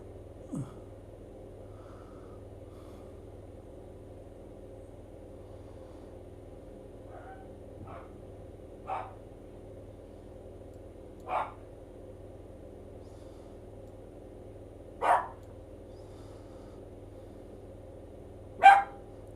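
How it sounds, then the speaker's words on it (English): Mabel, a pet dog, barks several times in a separate room, singly with long gaps between, faint at first and growing louder toward the end over a quiet room hum. "Dog's gone mental. Mabel, stop it. Barking like that."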